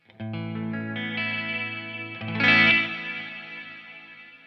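An electric guitar plays through a Walrus Audio SLÖTVÅ multi-textural reverb pedal: a sustained chord swells into a shimmering, washy tail, a second brighter strum blooms, then decays slowly.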